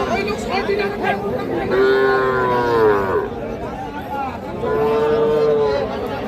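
Young bulls and heifer calves at a crowded livestock market in Bangladesh give two long, loud moos over a steady background of chatter and crowd noise, close by.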